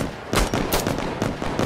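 Gunfire in the video game Insurgency: Sandstorm comes as a rapid, loud string of close shots in uneven bursts, each crack sharp and dense, with no talk over it.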